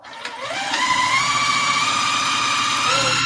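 A sewing machine stitches together a 2.5 inch quilt square and a 2.5 inch strip with a quarter-inch seam, whirring steadily up close as its motor speeds up and then holds a constant hum.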